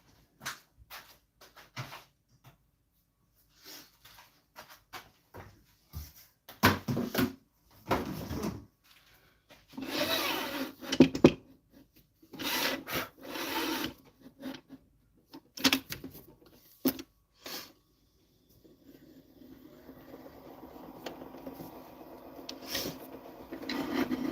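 A wooden piece with several curved cutouts is sanded by hand in short, irregular rasping strokes, close and moderately loud with quiet pauses between them, then settling into a steadier, softer scraping toward the end.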